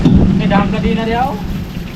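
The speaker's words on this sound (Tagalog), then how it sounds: "Naliligo sa ulan." Heavy rain with thunder pours steadily and loudly close by, a dense continuous roar with deep low rumbling underneath and no pause across the short stretch.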